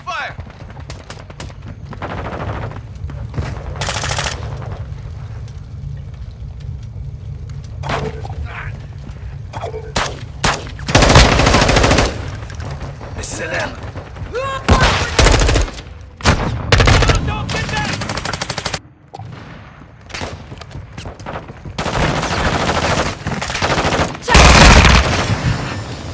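Gunfire in the shooter game Call of Duty: Modern Warfare II comes as loud bursts of automatic fire and single heavy shots with booms, irregular and close, while game voices speak between the volleys.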